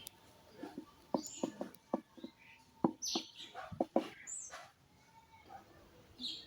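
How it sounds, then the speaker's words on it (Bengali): Small birds chirp and tweet in short scattered bursts around a quiet Bangladeshi village courtyard with green trees, some calls close and sharp, others faint and distant. "পাখির ডাকগুলো শুনতে এত ভালো লাগছে।"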